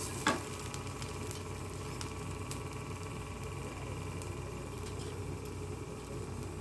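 Onions fry in a pan for a potato-cabbage curry, giving a soft, continuous sizzle with faint crackles and one brief knock near the start, heard alone without speech.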